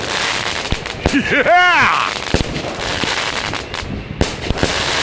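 A Lady Evil 16-shot 200 gram fireworks cake repeater goes off with loud, sharp bangs and crackling bursts, some with rising whistles, spread across the clip while people shout and cheer excitedly.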